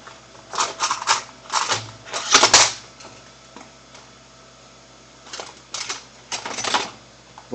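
3D printer extruder motor feeding PLA filament: clustered mechanical clicks and whirring bursts with quiet gaps between them, close and moderately loud, no talking.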